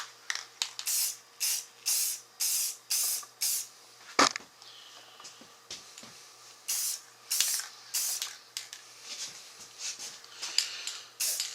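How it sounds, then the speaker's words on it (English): Rust-Oleum metallic spray paint on a vintage ice box refrigerator, a string of close hissing bursts of about a second each, separated by short pauses, with a knock and faint handling noises in a quieter stretch midway. "I'm going to give this a shot with this metallic paint here. Rust-Oleum metallic."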